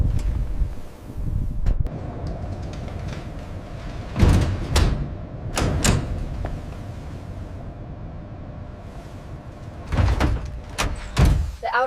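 An outer airlock door on a Mars habitat during a dust storm, failing to seal, sends repeated sharp rattling bangs and clatters over a steady roaring wind-like rush, loud and close, with no speech.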